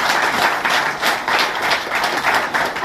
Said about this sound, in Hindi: और जी तालियों से स्वागत मैं चाहूंगी सभी का